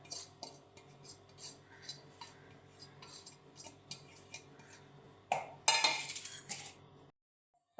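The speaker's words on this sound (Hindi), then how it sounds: "ये इसको मिक्स करेंगे इसके अंदर।" A spoon stirs samosa egg filling with chopped green chillies in a bowl, a run of close, light clinks and scrapes in an uneven rhythm, ending in a louder burst of rubbing and scraping before falling silent.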